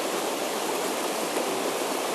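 A river swollen after rain rushes through a trout pool, a constant, full broadband roar of flowing water, close and steady with no voices.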